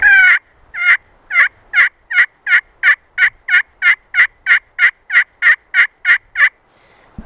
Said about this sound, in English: the hen yelp.